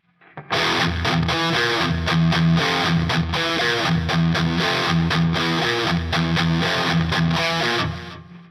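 A heavily distorted electric guitar plays a chugging riff, loud and continuous, with rapid palm-muted pulses on the low E and brief accented chords.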